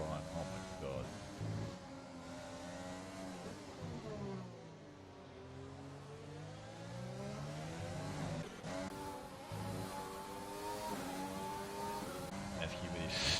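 An F1 race car in an Xbox league video game over-revs its engine, a continuous high engine whine with pitch rising and falling through gear changes, running steadily under a commentator's voice.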